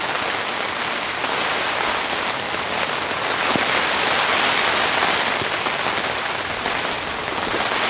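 Heavy torrential rain pounds steadily on a tent during solo camping, a dense, loud, unbroken roar of drops with no let-up.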